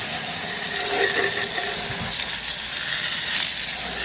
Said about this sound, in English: we might as well spray the rims down because they get a little bit dirty